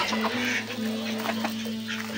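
Ducks quacking in short nasal bursts over a steady low hum, fairly close, with several calls overlapping.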